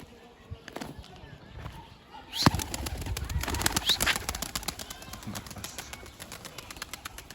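Wings clatter and flap as a young white pigeon takes off nearby on its first flight, with rustling movement and a voice speaking over the outdoor sounds.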